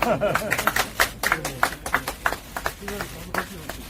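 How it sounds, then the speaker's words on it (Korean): Brief close applause from a small group for the first recipient of Gyeongbuk's first AstraZeneca COVID-19 vaccine shot; quick, uneven claps over about four seconds, with people talking at the same time. "1호 접종 대상자 영감 박수 드립니다"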